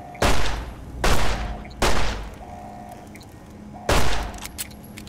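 Loud gunshots in the video game Fallout: New Vegas ring out as four heavy booming shots spaced about a second apart, each with a long decaying tail, over a low game background and no talk.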